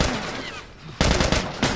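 Gunfire in The Last of Us Remastered, loud and close, with a dense burst of shots followed by a second sharp blast a moment later.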